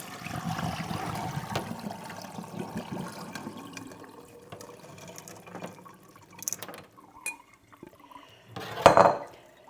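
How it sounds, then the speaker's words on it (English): Soaking water from two cups of overnight-soaked pinto beans is poured off at an outdoor rocket-stove cooking setup, a steady close trickle and splash with pot clatter, ending in a louder splash near the end. "I'm going to drain the soaking water"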